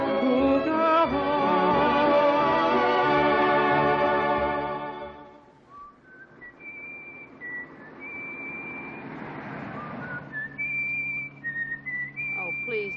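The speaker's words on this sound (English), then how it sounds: "Whistle something else." A person whistles a clear, sustained melodic tune, first as a steady flowing phrase, then after a short pause as softer, separate notes over faint room background.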